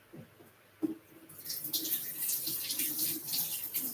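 Running tap water pours steadily over a bottle, a stick and leaves being washed, a loud close splashing hiss that starts after a few soft knocks and continues alone.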